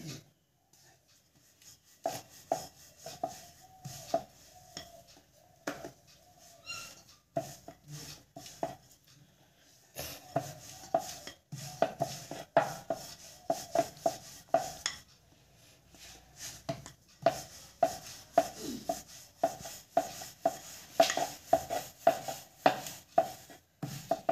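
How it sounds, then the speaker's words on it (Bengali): Pea-stuffed kachori dough being rolled out with a rolling pin, a long series of rhythmic wooden knocks and rolling thumps on the board, close and fairly quiet, with occasional light clinks in between. "সেই জন্য মা আটা দিয়ে বেলে নিচ্ছে।"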